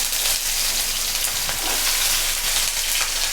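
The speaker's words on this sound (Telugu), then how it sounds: "ఇక్కడ మన బెండకాయలు ఫ్రై అవుతున్నాయి, బాగా ఫ్రై అవుతున్నాయి" Okra (ladies' fingers) frying in hot oil with mustard seeds, a steady dense crackle and sizzle that holds evenly throughout, close and fairly loud with no talking.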